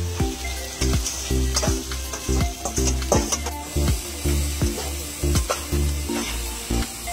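Onion with ginger and garlic paste sizzles steadily in a pan, with a rhythmic series of scraping stirs against the pan at close range.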